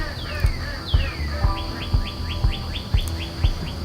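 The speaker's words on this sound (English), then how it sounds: "listening to the birds and the crickets" Birds singing outdoors on a morning, a run of quick repeated chirps and whistled calls over a steady high insect drone like crickets, with regular soft low thumps underneath.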